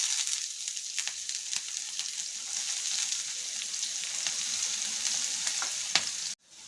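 Cumin, green chilies and onion frying in a pan for a manchurian-style dish, a steady close sizzle with scattered crackles and pops running throughout, cut off abruptly at the very end.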